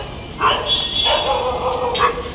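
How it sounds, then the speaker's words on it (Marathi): Several dogs bark and yip outside a veterinary clinic, a few sharp, fairly close barks spaced across two seconds over a background hum, with some whining tones in between. "ते बघा बाहेर सगळे कुत्रे त्याला भुकतायत कसे"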